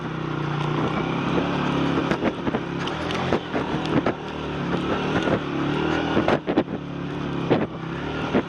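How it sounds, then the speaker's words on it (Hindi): A jeep drives past on a narrow mountain road on the way to Nanga Parbat, its engine a steady close rumble with sharp knocks and rattles over rough ground and wind buffeting the microphone. "ये तीसरी जीप है जो आ रही है"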